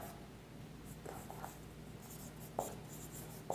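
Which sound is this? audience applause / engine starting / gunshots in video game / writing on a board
writing on a board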